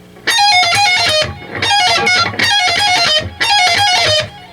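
An electric guitar plays a fast lead lick, with bends, pull-offs and alternate picking up high on the neck, heard as four bright, ringing phrases separated by short gaps.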